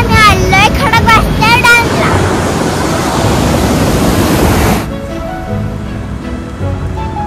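Water released from the Khadakwasla dam rushes in a loud, steady roar, with a voice speaking over it at the start before the roar drops somewhat and continues alone.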